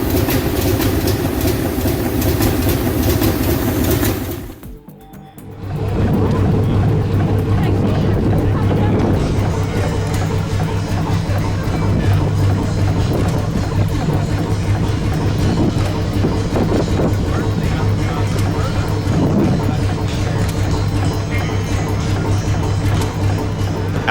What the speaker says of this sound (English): Fairbanks Morse 6-cylinder roars to life, each detonation sharp and commanding